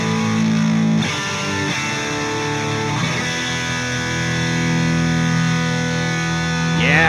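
Electric guitar run through a distortion pedal cranked to maximum gain, with reverb on the tone, giving a thick, sustained stadium-rock sound. Chords ring and bloom continuously at a loud, steady level with a few changes along the way, and no talking.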